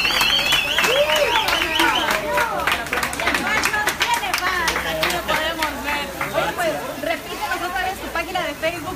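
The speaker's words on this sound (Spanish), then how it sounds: "¡Un aplauso para el fashion!" Scattered hand clapping from a small crowd at an outdoor hot dog stand, sharp irregular claps mixed with lively chatter and overlapping voices throughout.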